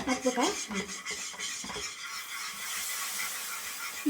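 A spoon stirs a gram flour mixture for Mysore pak in a metal pan, with scraping and clinking over the first two seconds, then a steady hiss of hot ghee or oil.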